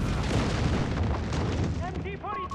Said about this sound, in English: Mortar meanwhile is working on that.